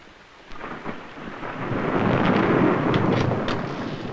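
Thunder rolls up from a quiet start into a long, loud rumble over steady rain, with faint distant cracks and a slow fade near the end.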